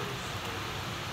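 Heavy rain pours down in a steady, dense hiss of drops on surfaces, loud and unbroken across a brief moment, with no voices.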